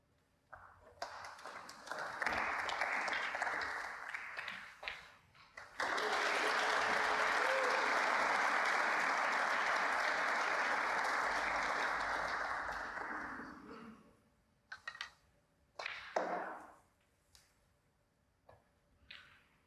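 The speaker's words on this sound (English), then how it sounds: "The applause there. That's for Tom Ford. He's made a century" Snooker crowd at the German Masters breaks into sustained applause for Tom Ford's century break, a dense wash of clapping that swells, holds steady for several seconds, then tapers off into a few scattered claps.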